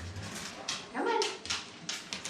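Lola the puppy gives a few short whimpers and yips, soft and fairly close, in a quiet room. Faint muffled noises surround the cries.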